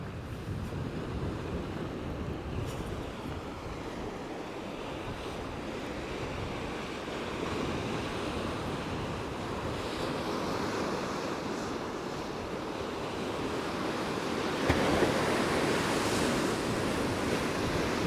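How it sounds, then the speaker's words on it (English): Ocean waves wash in against the black rocks at Peggy's Cove in a continuous, rolling roar, with gusty wind buffeting the microphone and a slightly heavier surge near the end. "Can you hear the waves washing in? The roar of the ocean?"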